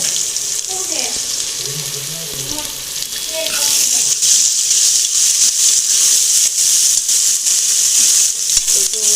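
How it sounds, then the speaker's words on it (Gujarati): Onions fry in a home kitchen pan with a steady, loud hiss of sizzling oil that swells and fills the whole stretch, with a few faint voices and clinks underneath. "ડુંગળી ચડે છે"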